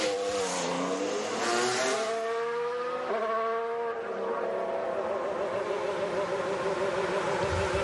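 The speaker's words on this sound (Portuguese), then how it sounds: "Saindo aí o Charles Leclerc." A Formula 1 car pulls out of the pits during qualifying at Silverstone, its high-revving engine climbing through several gear changes with a loud, continuous whine that stays fairly close before settling into a steady drone.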